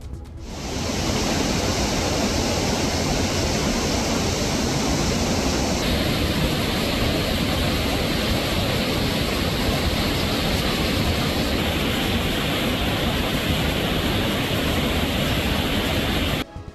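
Heavy rain has swollen the Silver Falls waterfall at Kodaikanal into a flood, giving a steady, dense roar of rushing water that stays loud and unbroken throughout, with no voices.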